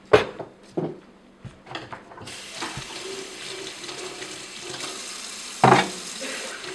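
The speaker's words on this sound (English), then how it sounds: "before I open cans, I always wash the lid" A can lid is rinsed under a kitchen tap during a cooking class: a few light clunks, then a steady close rush of running water with a brief louder splash near the end.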